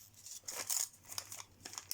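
Scissors snip and crinkle through gift wrapping in a run of quick, faint cuts and rustles, close by with no talk.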